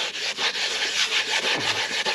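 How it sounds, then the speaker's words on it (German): Wet scuffing of plastic trim strips on an 80s–90s Opel Omega with grey abrasive fleece and a little water, a close, loud, continuous rubbing with quick repeated strokes and no voices. "Schön schleifen und auch hier die Leiste schön mit bearbeiten."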